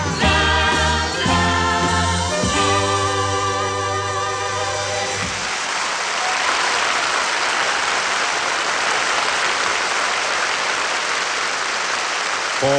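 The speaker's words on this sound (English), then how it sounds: "Warm applause." Audience at the 1972 Eurovision Song Contest bursts into loud, sustained applause as a song ends, the final chords fading out under dense, steady clapping that continues for the rest of the clip.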